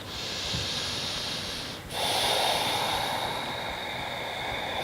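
Slow deep breathing during a gentle yoga session, a steady breathy hiss of an inhale and exhale held close to the microphone, with a brief pause before a fuller breath swells up again, no talking.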